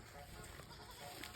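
Goats bleat faintly in the distance over a low rural background hum, at a storm-damaged house in Baybay, Leyte.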